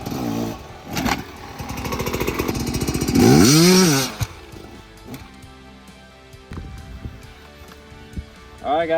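A dirt bike's engine climbs to full revs with a rising whine and a loud burst as it crosses a log, then drops to an uneven lower note, with a voice speaking in between.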